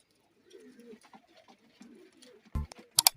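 Paira Moja breed pigeons coo softly in low, murmuring calls, followed by a couple of sharp, loud knocks near the end.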